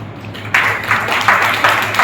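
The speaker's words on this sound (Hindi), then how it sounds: "तालियों के साथ उनका स्वागत कीजिए।" An audience applauds to welcome a visiting doctor at a councillor-organised community awareness programme on drug addiction, sanitation and TB. The clapping starts suddenly after a short quiet moment and continues as a loud, steady wash of many hands, with no one talking over it.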